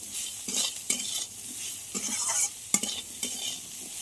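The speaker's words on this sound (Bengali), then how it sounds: "লবণ আর হলুদ দিয়ে কিছুক্ষণ একটু ভেজে নিতে হবে।" Bitter gourd and potato pieces fry with salt and turmeric in a pan, a steady close sizzle broken by repeated scraping stirs of a utensil against the metal.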